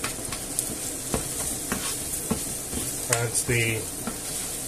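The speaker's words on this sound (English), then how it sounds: "I'll move it all about so the rice sucks up all the, you know, the juice, the olive oil and whatever juice" Paella rice being stirred as it fries in olive oil with meatballs, a steady close sizzle broken by scraping stirs, with a few brief spoken words.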